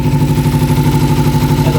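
A motorcycle engine idles close by with a steady, even, pulsing beat after a vacuum line at the carburettor was bypassed, running smoothly and loud.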